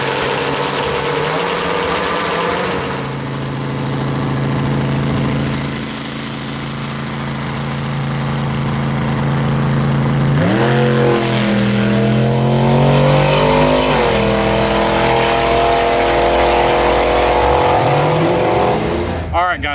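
A Turbo Predator 670 dragster motorcycle engine idles roughly and then revs hard in rising, falling sweeps, loud and close, with people talking over it.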